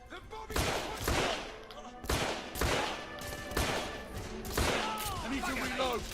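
Revolver gunfire in the video game The Order: 1886, several sharp loud shots in irregular bursts with booming tails, and game sounds filling the gaps between them.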